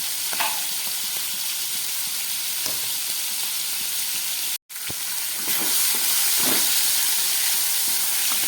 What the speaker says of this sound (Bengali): এই গরম তেলের মধ্যে আমি চিংড়ি মাছটা ভেজে নিচ্ছি